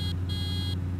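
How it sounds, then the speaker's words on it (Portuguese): Horn of a motorcycle in Farming Simulator 15, a steady electronic buzzing tone that sounds twice in quick succession over a constant low engine hum, with no talking. "vamos testar a buzina disso aqui."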